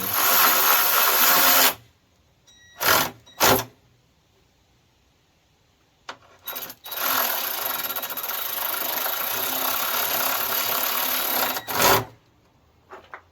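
A power driver tightens short screws on the steel radiator frame of a New Holland tractor, giving several loud whirring bursts of differing lengths with quiet pauses between, close and without talk.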